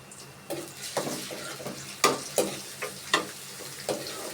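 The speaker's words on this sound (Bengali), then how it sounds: "আমি টমেটোর আগে চিংড়িগুলোই দিয়ে দিব, যাতে একটু ভেজে নিতে পারি তেলে সরাসরি।" Prawns frying directly in hot oil before tomatoes go in for a curry, a soft steady sizzle broken by sharp scraping stirs and clinks of a spatula against the pan, close and moderately loud, with no voices.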